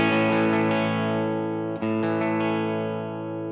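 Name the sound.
electric guitar through slightly crunchy amp, volume knob turned down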